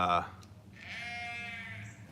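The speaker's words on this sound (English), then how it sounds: "thank you for that stupid sheep in my front field" A single sheep bleats from a front field, a drawn-out wavering call heard at moderate distance, with a voice briefly before it.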